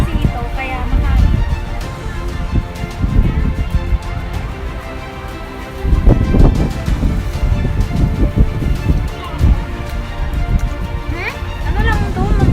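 Strong typhoon winds roar across a third-floor rooftop in Cavite, a loud, continuous gusting rush with rumbling buffets, while a person talks over it throughout.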